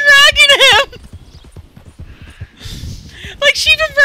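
Horse in a video game, bursts of high whinnying at the start and end framing a run of quick, close clip-clopping hoofbeats, with a human voice mixed in.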